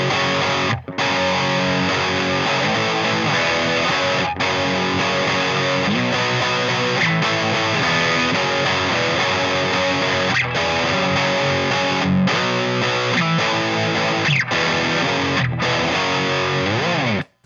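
A heavily distorted electric guitar played through a distortion pedal plays sustained, crunchy chords continuously, loud and saturated, with a few brief pauses between strums.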